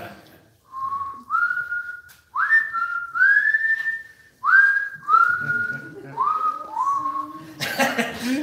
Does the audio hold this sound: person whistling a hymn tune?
yes